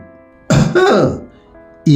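A single throat clearing, close and fairly loud, a gruff rasp lasting under a second, followed by a short pause and the start of another sound.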